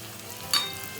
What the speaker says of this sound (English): Make sure you temper the chives until its green color changes to slightly darker shade.